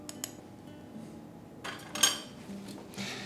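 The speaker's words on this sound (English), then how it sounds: "we can whisk all of these dry ingredients together" A whisk clinks against a bowl while dry ingredients for apple fritters are mixed, giving faint scattered taps and scrapes with a few sharper metallic clinks over a quiet kitchen background.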